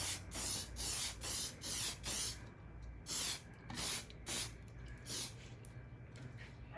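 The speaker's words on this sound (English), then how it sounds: "You're just gonna spray and go across, back and forth" Leather protectant sprayed onto a bag in a series of short hissing bursts, back and forth, each about half a second, close and fairly quiet.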